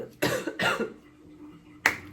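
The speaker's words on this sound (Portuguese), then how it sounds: "Pausa, tô com uma tosse que faz 3 semanas que eu melhoro." Three sharp coughs, two close together near the start and a third after a pause, loud and close with no talking.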